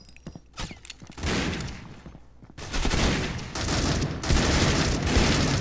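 Dense gunfire from the mobile shooter game Critical Ops, with rapid automatic bursts and sharp shots rolling almost continuously, loud and close, building in intensity toward the end.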